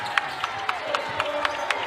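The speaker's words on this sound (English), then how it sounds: "Crowd coming to life here at McHale." A basketball crowd at McHale arena stirs into a steady murmur of cheering, with sharp rhythmic squeaks or claps popping out at regular intervals above the broad, moderately distant roar.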